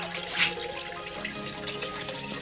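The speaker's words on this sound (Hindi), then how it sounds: "देख सकते हो यहाँ से पानी गिर रहा है" Steady splashing of water falling from a tunnel near Barapalasi railway station, Dumka, Jharkhand, continuous and fairly close, with a brief louder splash near the start and no voices.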